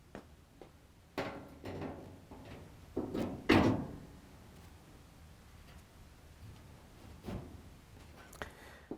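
A Frigidaire/Electrolux washer's front panel is lifted onto its frame slots and locked into place. Several dull metallic clunks and knocks ring out, with the loudest bang near the middle, and there is no talking.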